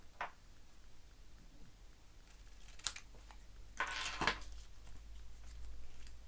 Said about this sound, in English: I'm just going to cut this in half